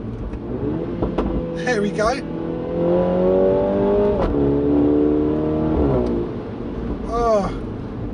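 A 2019 Mini John Cooper Works fitted with the JCW Pro exhaust revs hard and loud from inside the cabin, its engine note rising and falling through several pulls while occupants speak briefly over it.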